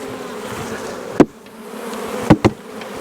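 Honeybees being shaken into a hive while combining colonies for winter, a steady insect buzz throughout with a few sharp knocks of frames against the box, close by.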